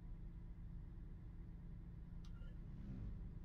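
A G8 bus engine hums at a low, steady pitch while driving in a bus simulator game, with a brief higher chime partway through and a slight rise in engine rumble near the end.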